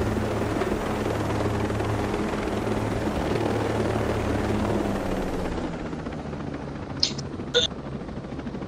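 A helicopter in Ghost Recon Breakpoint drones with a steady, loud rotor hum throughout, easing slightly toward the end, where two short sharp bursts cut in.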